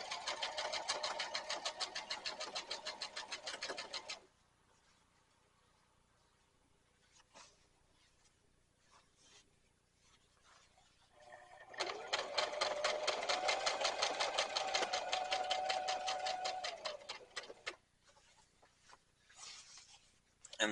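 A sewing machine hems two thicknesses of heavy canvas for an over-the-seat rifle carrier, running in two long, loud, steady bursts separated by a quieter pause with faint handling sounds.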